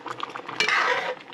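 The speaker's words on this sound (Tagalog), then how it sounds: "Sasalin ko na dito." Metal utensils scrape and clatter against pots while home-style Filipino kare-kare stew is transferred, with light clinks building to a louder scraping rush midway.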